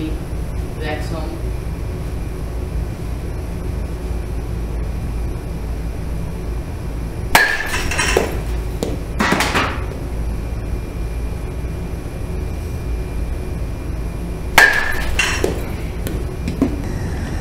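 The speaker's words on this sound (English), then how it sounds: "let's get to hitting it. Okay, we're now hitting with the DeMarini Vexum." A DeMarini Vexum baseball bat strikes a ball twice, each hit a sharp metallic crack several seconds apart, over steady background hum and noise.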